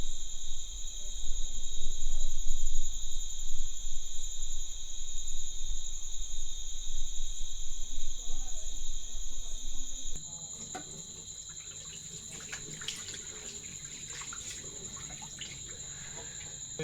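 Night jungle insects and crickets chirp in a steady, high, continuous drone close by, with a low rumble in the first part that drops away, leaving the shrill insect chorus alone.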